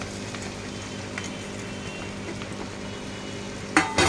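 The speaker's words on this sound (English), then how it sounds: "you're going to mix it really well with the fodni" Leftover poli being stirred into an onion tempering in a pan, a steady close sizzle with soft crackles throughout and a couple of louder scraping bumps at the end.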